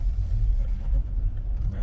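A car passes close behind on a road in small-town Bayou La Batre, Alabama, heard as a steady low rumble of the engine and tyres that stays constant throughout, with no talk.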